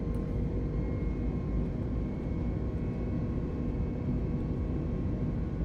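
Jet airliner engines spool up and roar steadily during the takeoff roll in Microsoft Flight Simulator 2020, a continuous loud broadband rumble with a faint whine on top, unbroken and without talk.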